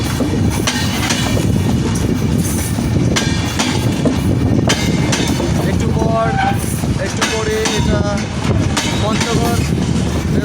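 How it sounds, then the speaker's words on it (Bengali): The Ekota Express pulls into a railway station with a loud, continuous rumble and rattle of carriages and some higher tonal squeals, while a person talks over the noise. "অনেক বড় ট্রেন এখানে প্রবেশ করলো"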